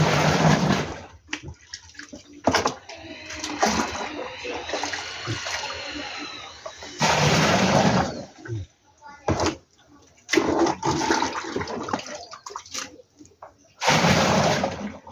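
Water poured out while mixing homemade fertilizer, heard as splashing, gushing bursts that come and go in several loud spells, with someone talking over and between them.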